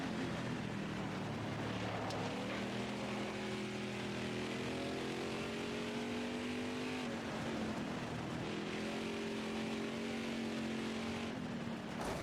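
Race car engines drone steadily in the Horizon Chase Turbo video game, a continuous whining hum with pitch that dips and climbs through gear changes, fairly quiet with no talking over it.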